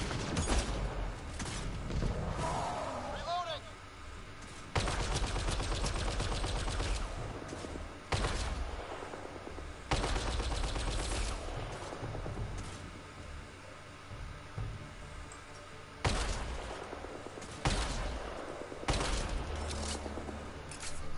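Gunfire in the sci-fi shooter Mass Effect: Andromeda, repeated loud bursts of rapid shots in separate volleys several seconds apart, over a constant background of game noise.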